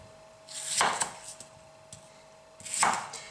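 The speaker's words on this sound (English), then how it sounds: "This is the part of it that takes the most time, really, just chopping up all the tomatoes." A knife chops through green tomatoes on a board, giving two distinct sharp cutting strokes with a few lighter taps between them, close and alone.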